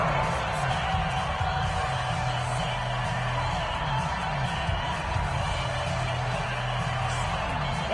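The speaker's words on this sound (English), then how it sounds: "The crowd getting into it as we come up on a big 3rd down." Stadium crowd in a football video game on PS4 roars steadily through the fourth quarter ahead of a big third down, a dense continuous wall of cheering with no lulls.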